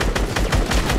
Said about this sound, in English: You get the minigun